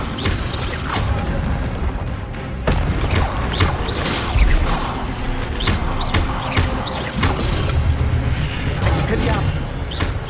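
Repeated Expelliarmus spell casts in Hogwarts Legacy crackle and burst in a dense, busy stream of sharp magical impacts and rumbling effects over about ten seconds, with a voice present.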